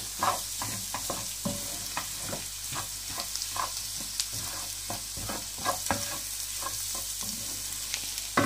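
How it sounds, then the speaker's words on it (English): Egg bhurji, chunks of egg with a little oil, sizzles steadily in a hot pan while a spatula stirs and scrapes through it in repeated strokes, close and fairly loud, with no talking. "these big chunks of egg, this little bit oil, just mix it through"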